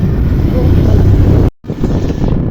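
Strong wind roars across the microphone while riding a bike outdoors on a warm evening, a loud continuous rumble that cuts out for a moment before the rushing returns.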